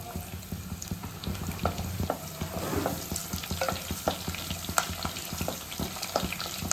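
Garlic frying in oil in a pan for a curry, a steady broadband sizzle with scattered pops and occasional stirring clicks, moderately close and continuous, with no talking.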